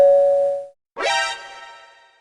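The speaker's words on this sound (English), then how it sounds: "My doorbell?" A doorbell gives a two-tone ding-dong chime, a clear first tone fading out, brief silence, then a brighter second tone ringing and decaying slowly, loud and close, alone.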